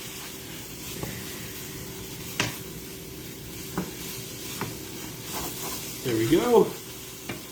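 Homemade hamburger helper with barbecue sauce is stirred in a frying pan, with a steady low sizzle, scattered scrapes and clicks of the utensil, and a short burst of stirring near the end under brief talk.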